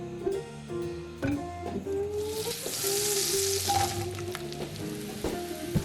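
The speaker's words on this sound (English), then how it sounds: "you want to brown your mushrooms in butter" Mushrooms browning in butter for a red-wine beef bourguignon fill the pan with a constant soft sizzle. Fainter scraping and clinks sit beneath the frying.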